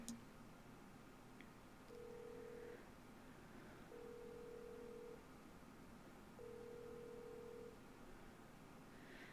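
Three steady dialing tones from the First Snow visual novel sound in turn, each about a second long with short gaps, over a quiet background hum with no talking.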